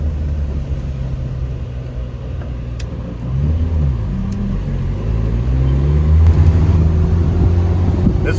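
A car running on a used 1.3-liter engine idles with a low, steady rumble, then revs up in a few rising and falling swells before settling into a louder, higher drone, close by with no speech.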